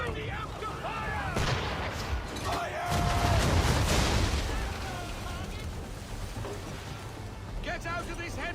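Ship swivel guns fire during a naval battle in Assassin's Creed 3, heavy booming blasts and cracks mixed with crashing water and wind, while voices shout orders over the din.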